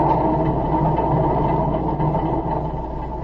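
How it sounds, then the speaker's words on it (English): A night train rolls along as a radio drama sound effect, a loud, steady low roar and rumble of wheels and carriages with no voices over it. "train roared through the night"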